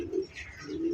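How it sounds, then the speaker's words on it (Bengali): Chuina pigeons coo in a low, soft, throaty pair of notes, close by and alone, one short call at the start and another at the end of a brief moment. "আরেক জোড়া চুইনা কবুতর দেখা দিছি বন্ধুরা"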